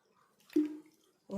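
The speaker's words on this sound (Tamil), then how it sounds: "கொஞ்சம் அப்படியே தண்ணி தெளிச்சிக்கலாம்." Water is sprinkled onto flattened rice (aval) dough being mixed by hand, making a brief soft splash in an otherwise quiet kitchen, with a voice starting up just afterward.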